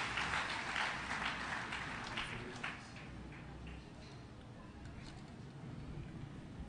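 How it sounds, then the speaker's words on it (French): A church congregation applauding at a convention service, clapping loud at first and then thinning out and fading to a softer patter over several seconds. "Nous allons encore une fois applaudir le Saint-Esprit de Dieu."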